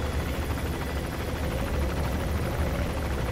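A helicopter flies in the video game Metal Gear Solid V: The Phantom Pain, giving a steady, close, loud rotor drone with a chopping pulse. It runs continuously throughout with no speech.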